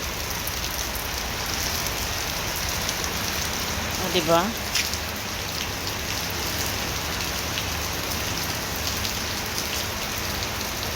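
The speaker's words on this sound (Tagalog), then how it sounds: "Malakas ang ulan." Heavy rain pours steadily in Kuwait on its third straight day, causing flooding, in a dense, constant hiss, while a voice briefly speaks partway through.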